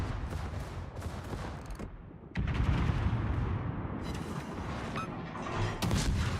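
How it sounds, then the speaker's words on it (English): Dense, heavy booms and crackling blasts roll through a World of Warships battle as a torpedo strikes a ship, loud and continuous with a sharp surge midway. "Hey, torpedo hit."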